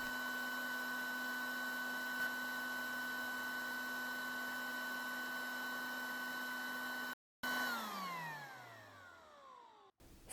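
A BAK RiOn 2 hot air welding tool blowing in cool-down mode: a steady whirring fan hum with a tonal whine, then a brief cut and the pitch sliding down as the motor winds down.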